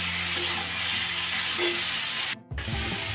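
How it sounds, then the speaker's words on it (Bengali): Marinated soybeans tipped into a pan of spice paste fried until the oil separates, giving a loud continuous sizzle with stirring scrapes and a brief drop in the sizzle as the beans go in. "এইবার আমি ম্যারিনেট করে রাখা সয়াবিনটা দিয়ে দিলাম।"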